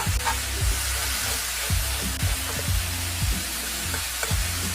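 Ground meat browning in a hot pan gives a steady, close sizzle, with soft periodic scrapes and taps as it is broken up and stirred; no one talks.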